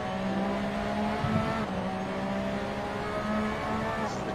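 A Porsche RSR race car in a racing video game at Zandvoort drones steadily under hard throttle, its engine note holding a continuous, even pitch with slight shifts as it powers along the track.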